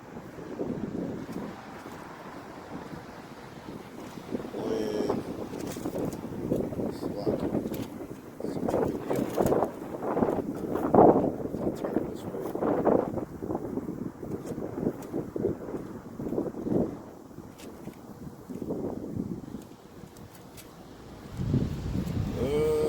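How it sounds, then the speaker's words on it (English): Gusty wind buffets the microphone outdoors, rumbling and rising in waves throughout, with a person talking underneath. "It's all windy out here."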